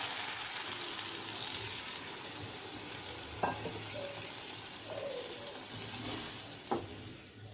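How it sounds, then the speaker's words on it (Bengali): Potato and pointed gourd frying in a pan after water is added: a steady, close broadband sizzle hisses throughout, with a couple of brief sharp clicks and no voices. "এবার আমরা জল দিয়ে দিব।"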